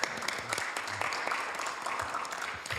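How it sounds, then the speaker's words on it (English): Audience applause at a city council meeting, a dense burst of clapping from a room full of people that holds steady for a few seconds at moderate loudness. "Let's give him another big round of applause."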